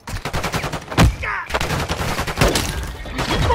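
Rapid bursts of automatic gunfire in a first-person shooter video game, loud sharp cracks in quick volleys with a brief pause, then more shots, under a player's voice talking.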